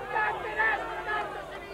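Boxing crowd at a fight reacting in a low, murmuring swell of chatter and shouts that rises and falls in short waves.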